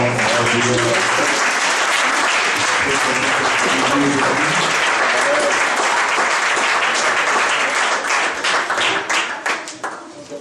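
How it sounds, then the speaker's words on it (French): A church congregation cheers and applauds God, loud sustained clapping from a large crowd with scattered shouts that fades toward the end. "Si tout le monde va bien, si tout le monde est content d'être là, tu vas acclamer Dieu très fort."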